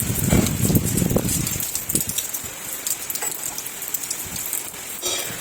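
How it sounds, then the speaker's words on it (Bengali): Light drizzle falls during a stormy spell under heavy cloud, with gusty wind blowing through coconut palms. It gives a steady, soft hiss of rain on surfaces, with scattered close patters and bursts of louder noise at the start and near the end. "আবারও বৃষ্টি স্টার্ট হয়ে গেছে ঝিরঝির করে বৃষ্টি করছে"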